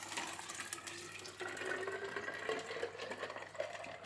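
Water pouring into a Zojirushi 2.05 L insulated bottle, a continuous close splashing stream whose pitch shifts slightly as the bottle fills.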